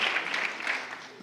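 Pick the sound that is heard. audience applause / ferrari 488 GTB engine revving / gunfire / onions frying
audience applause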